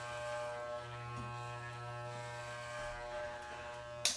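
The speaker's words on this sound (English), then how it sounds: "And I'm just trimming around the ears." An electric beard trimmer buzzes steadily near the ears with a constant motor hum, its tone shifting slightly as it moves, ending in a brief clatter.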